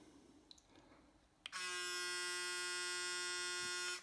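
A Braun Series 9 Pro electric shaver switches on after a click and runs with a loud, steady high-pitched buzz for a few seconds, then shuts off. There is no talking.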